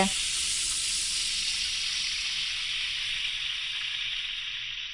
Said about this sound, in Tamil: பிரிஞ்சியில ஏலக்காய் கிராம்பு பட்டை வெங்காயம் கோல்டன் ப்ரௌன் வரைக்கும் வதக்குங்க